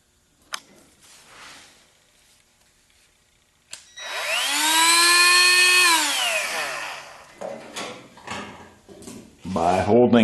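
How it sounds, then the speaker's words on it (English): A small Dremel-type rotary tool spins up loudly for about two seconds with a rising then falling whine, used near the fuel gauge wiring of a 1976 Corvette, after quiet clicks; a voice speaks briefly at the end. "I am going to attempt to use my Dremel type tool"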